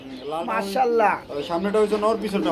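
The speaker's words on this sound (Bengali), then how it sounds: "আমরা এখানে কি দেখতে পাচ্ছি ভাই একজোড়া নান কবুতর" A pair of Nun pigeons in a cage at a market, giving soft rising and falling coos close by, under and between people talking.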